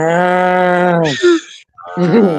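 A cow lets out a loud, close, drawn-out moo, followed by a shorter lowing call after a brief pause.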